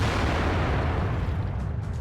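A tank cannon shot in World of Tanks, a heavy boom with a long rumbling decay that fills the whole two seconds, loud and alone with no talk over it.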